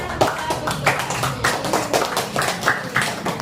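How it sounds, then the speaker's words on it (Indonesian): A small group of students in a classroom claps in a steady, fairly brisk patter for a few seconds, close by and without voices. "Tepuk tangan."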